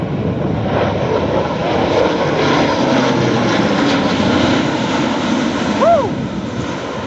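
An A400M Atlas military transport aircraft flies past at an airshow in Michigan, its loud engine drone steady and broad, with a voice talking over it.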